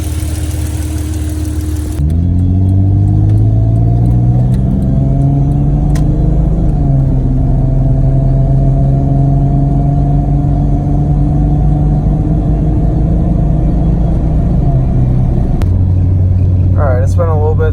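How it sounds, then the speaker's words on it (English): A Jeep Cherokee XJ, freshly fitted with 12-hole fuel injectors, pulls away on a test drive, its engine rumbling steadily from inside the cab and rising through gears with shifts, loud and continuous throughout. "So we're going to take it on a test drive."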